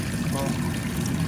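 Hot water pours and trickles in a steady, continuous splashing stream during a repair job, close and fairly loud, with a voice talking over it.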